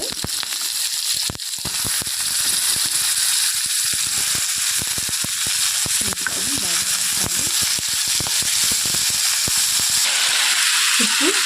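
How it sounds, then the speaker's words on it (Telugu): Potatoes added to fried onions and cumin sizzle steadily in a home cooking pan, a dense continuous hiss with scattered crackles and scraping stirs throughout. "ఇప్పుడు వేగిన ఉల్లిపాయల్లో బంగాళదుంపలు వేసుకోవాలి."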